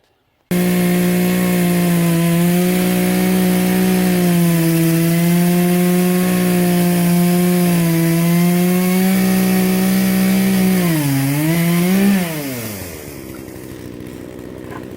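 A small two-stroke Poulan chainsaw engine runs steadily at a high buzzing idle-to-rev pitch, then winds down and cuts off near the end, leaving quiet background.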